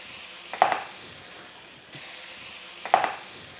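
Water poured into a hot pan of tamarind gojji pulusu gravy, North Telangana style, giving two brief sizzling hisses about two seconds apart against a quiet kitchen background.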